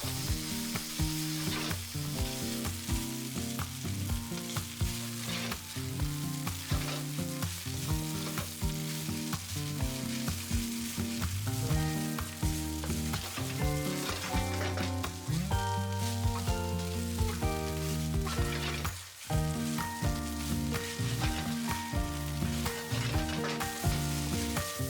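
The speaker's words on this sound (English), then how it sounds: "fry the rice for about 4 to 5 minutes and give this a really nice mix" Goan sausage fried rice with onion and chopped coriander sizzles in a pan while it is stirred. A continuous, busy frying hiss with scraping stirs runs throughout, with music playing underneath.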